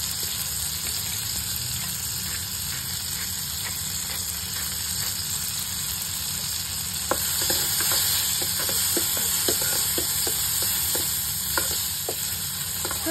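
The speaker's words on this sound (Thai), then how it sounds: "ผัดแค่มะเขือเทศเขาพอแบบนิ่มๆนะคะ" Tomatoes stir-fry in butter in a pan, a steady close sizzle and hiss with scraping stirs and small pops of spatula strokes becoming more frequent in the second half.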